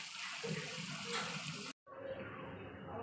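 Water runs and splashes steadily at a sink while dishes and pots are washed, cutting out abruptly for a moment and then resuming as a slightly duller flow, at moderate level with no clear speech.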